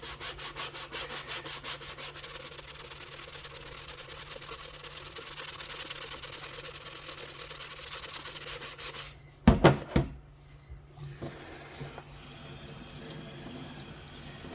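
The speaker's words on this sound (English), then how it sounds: "Now I just scrubbed at that for about 20 seconds, and there's really not much difference." Scrubbing at a weathered plastic solar light cap with the abrasive back of a kitchen scrubber: a steady, close, rhythmic rasping rub runs for several seconds, broken by a brief pair of knocks and then quieter scratching.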